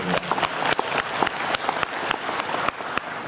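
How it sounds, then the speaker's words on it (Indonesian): An audience at a large Islamic gathering at a university claps enthusiastically, a dense, steady round of applause from many hands with sharp individual claps standing out, close and sustained throughout. "Kita berikan aplaus untuk kita bersama."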